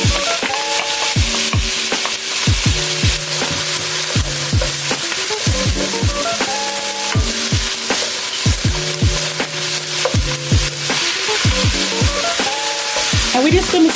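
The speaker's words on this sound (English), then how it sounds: "And we're just going to saute this for a minute or two." Seasoning mixture sautéing in a pan for carrot rice, with repeated stirring scrapes and knocks over a steady close sizzle throughout, no voices.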